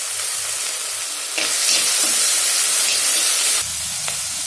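Chopped shallots and curry leaves sauté in hot oil with a steady, close sizzle; the sizzle swells louder for a couple of seconds in the middle, and soft stirring sounds come through it.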